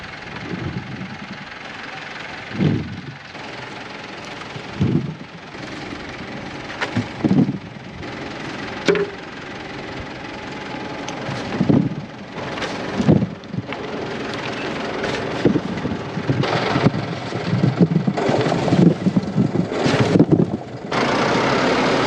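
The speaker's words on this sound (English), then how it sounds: "bringing over the tractor and a bin" A tractor working in a potato field while moving a bin, heard as a steady engine drone that builds and swells over time, with repeated knocks and clanks of equipment mixed in.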